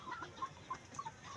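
Chickens clucking on a backyard farm, a handful of short, soft clucks spaced irregularly over a faint outdoor background, fairly distant and quiet.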